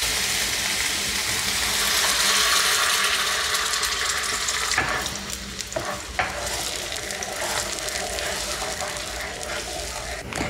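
Tomato puree cooking in oil on a tawa sizzles steadily and loudly, with a few sharp clinks of a spoon scraping the pan breaking in partway through; no voices.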